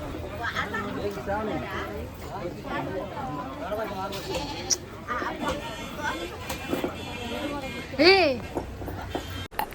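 Goats bleat at a temple gathering, several wavering calls rising above a busy hum of crowd chatter, with one louder nearby bleat toward the end while people talk throughout.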